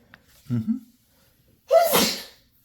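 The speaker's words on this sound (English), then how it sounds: "Sorry, I sneezed." A short intake of breath is followed by a single loud, sharp sneeze close to the microphone.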